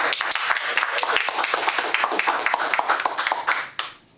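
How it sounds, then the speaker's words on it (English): A Toastmasters club audience claps for a member about to give his report, a small room of people applauding with distinct, close hand claps that run steadily and then taper off near the end. "big round of applause for Fraser"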